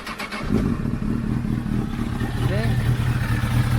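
A 2006 Honda CBR1000RR motorcycle engine catches after a short quiet start and settles into a steady, close, loud rumble that runs through the rest of the clip.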